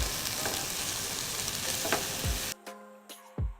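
Garlic and onion sizzling in melted butter in a pan, a steady dense frying hiss broken by a few stirring scrapes, then cutting off abruptly to near silence with a couple of soft knocks.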